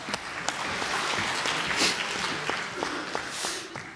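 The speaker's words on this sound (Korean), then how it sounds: "우리 박수 한번 주세요" Members of a Baptist church congregation give a round of applause for someone who answered correctly, a full, even roar of clapping from a crowd indoors with a few sharper individual claps standing out.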